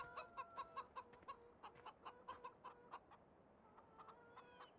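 Chickens cluck in the video game Farming Simulator 17, a run of rapid, rhythmic clucks that continues and then fades to softer, sparser calls, heard fairly quietly.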